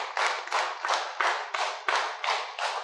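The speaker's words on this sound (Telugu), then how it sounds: "ಆಧ್ಯಾತ್ಮ ಧ್ಯಾನಾಲಯಕ್ಕೆ ಜೋರಾಗಿ ಒಂದು ಚಪ್ಪಾಳೆ" A crowd gives a round of loud clapping at a spiritual meditation centre gathering, about eight sharp, evenly spaced claps in a steady rhythm, with no talking.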